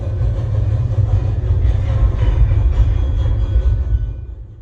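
Trains rumbling through railroad yards, a loud, continuous low mechanical drone with rolling clatter that holds steady and then fades toward the end, with no talk.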